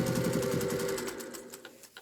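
Sewing machine stitching strips of denim on an outdoor porch, a fast steady mechanical whir that runs for over a second and then slows and fades into quieter clicks.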